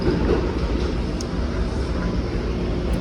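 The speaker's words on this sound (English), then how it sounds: "I just had to let the train leave so I can have access to that spot" A subway train pulls out of Marcy Ave station on the Williamsburg Bridge line, a loud, steady broadband rumble and roar that fills the platform without letup.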